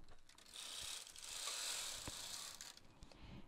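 Home knitting machine carriage drawn across the needle bed with red yarn, a steady mechanical whir and rattle with faint clicks, swelling and easing as it travels one row and back.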